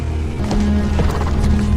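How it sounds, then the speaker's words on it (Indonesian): Hoofbeats of a horse setting off under a rider in a scene from Kingdom of the Planet of the Apes (2024): quick, rhythmic clip-clops over a low sustained hum, fairly loud and with no talking. "Noah kemudian langsung bergegas berangkat dengan menaiki kuda."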